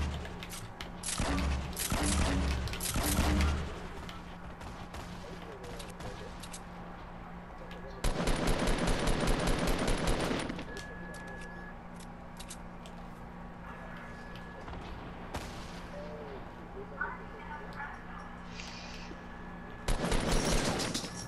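Video game gunfire in loud bursts of rapid automatic shots, with a cluster early on, a sustained stretch in the middle and another burst at the end, separated by quieter gaps of ambient game sound.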